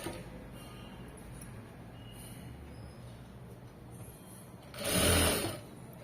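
A sewing machine runs steadily through cloth in an even, low whir, swelling into a louder burst near the end, with no voices.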